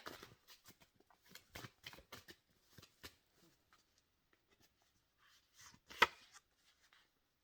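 A deck of tarot cards is shuffled and a card pulled, quiet papery riffles and slides in short bursts, with a sharper snap of a card near the end.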